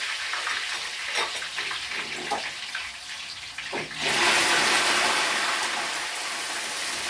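Chicken pieces for chicken biryani dropped into very hot oil in a pan, a broad loud hiss that jumps up suddenly midway and holds steady, with faint crackle before it.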